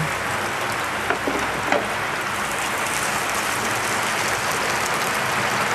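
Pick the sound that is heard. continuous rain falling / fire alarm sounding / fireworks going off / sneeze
continuous rain falling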